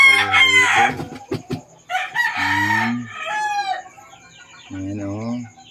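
Pet backyard chickens clucking and a rooster crowing nearby, with several distinct calls in short bursts separated by brief pauses, loud and close.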